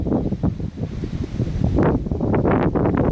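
Gusty wind roars across a chilly mid-50s beach with waves in the distance, buffeting the microphone in uneven loud bursts throughout.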